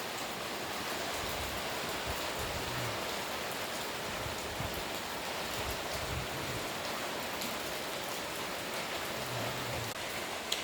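Steady rain falling in a rural farm setting, a constant, even hiss of drops on surfaces with no let-up, moderately loud and alone with no voices.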